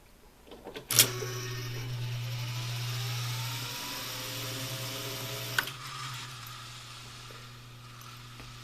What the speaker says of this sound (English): All the tone wheels are spinning.